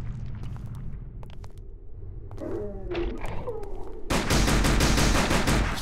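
Gunfire from the arcade shooter Silent Hill The Arcade plays as a dense, loud burst of rapid shots near the end. Before it come sparse clicks and a faint cooing, warbling game sound.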